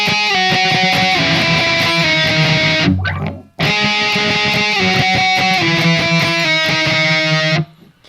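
Heavily distorted electric guitar rings out thick sustained chords that step down by a half step, loud and close, with a brief choked silence midway before the chords resume.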